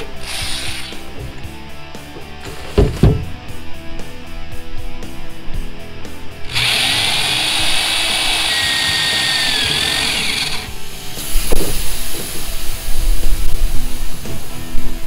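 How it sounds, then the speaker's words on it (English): A power drill whirs in bursts while holes are drilled into a Chevy Astro van to mount solar panels and their frame, with ratcheting clicks, a sustained high-pitched drilling stretch, and loud metallic clatter near the end. "Nothing left to do but drill us some holes."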